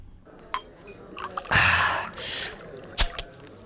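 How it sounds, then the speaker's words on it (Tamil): Liquor poured into a glass in a short gurgling stream, close by, framed by a few sharp glassy clinks and small drips before and after. "எனக்கு ஒரு ரவுண்டு ஊத்துறா."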